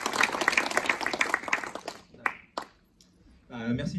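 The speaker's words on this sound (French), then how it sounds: "je vous prie d'applaudir Julien Collia" An audience at a club talk applauds a speaker on the art of the witty comeback, the clapping fading out after about two seconds into near silence, then a voice begins speaking.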